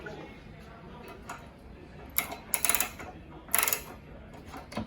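The valve on a gas cylinder feeding an old transport incubator ventilator is turned to off, giving a few close mechanical clicks and ratcheting turns with brief bursts of hiss, under a steady room hum.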